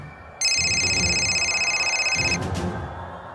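A telephone rings with a steady electronic trill lasting about two seconds before cutting off, loud and close.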